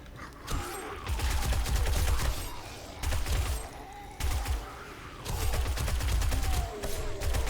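Repeated bursts of gunfire at zombies in 7 Days to Die during a blood moon horde, rapid volleys of loud shots with short gaps between them and a low rumble under each burst.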